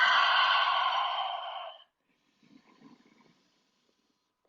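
A long, loud exhale from a deep breathing exercise, in through the nose and out through the mouth, is followed by softer, fainter breath sounds and near silence.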